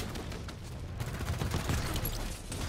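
Gunfire from the Halo 5 Warzone video game crackles in quick bursts at moderate distance, a rapid fusillade of shots layered over busy game ambience with no speech.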